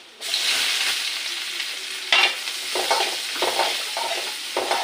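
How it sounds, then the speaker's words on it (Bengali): Chopped onion and garlic sizzle loudly in a hot oiled pan, a constant close frying hiss broken by stirring scrapes and bumps of a spoon against the pan. "তারপরে পেঁয়াজ কুচি দিয়ে দিলাম"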